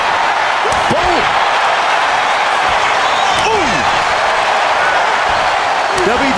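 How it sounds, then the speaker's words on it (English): Roaring arena crowd in the WWE 2K26 video game during a SmackDown match between Randy Orton and Cody Rhodes, loud and continuous throughout, with a few sharp impacts and swooping effects cutting through. "Listen to this crowd driving these competitors to leave everything out in the ring"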